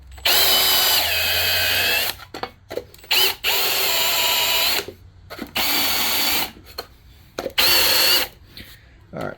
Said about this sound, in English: we are just going to chamfer the tops and the bottoms of the bores real quick